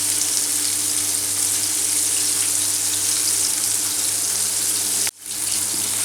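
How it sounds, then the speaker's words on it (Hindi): Pieces of chicken fry in a pan with a steady, dense, close sizzle that continues unbroken for several seconds before a brief dip, with no talking. "इस तरह से चिकन जो है आपका फ्राई होता रहेगा"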